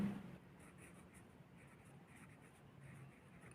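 A pen scratches across paper during a sixth-grade maths lesson on factors, very faint and close, a soft continuous rustle with no talking.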